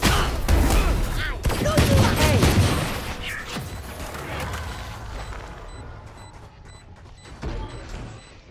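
Gunfire in the shooter video game Valorant during a Spike Rush round on the Split map, a loud flurry of shots and impacts that fades to quieter scattered sounds and faint beeps.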